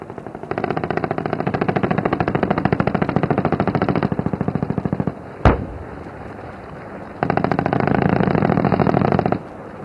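A Rudra armed helicopter fires rapid cannon bursts during a tri-service military exercise at Pokhran: two long, loud, fast-pulsing volleys, split by a single sharp blast and a short lull.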